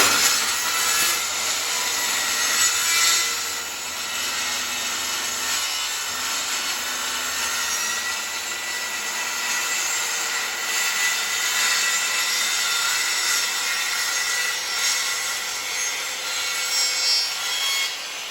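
A circular saw cutting diagonally through a sheet of plywood, a steady rough rasping whine that runs nearly unbroken for the whole stretch at close range, with no voices.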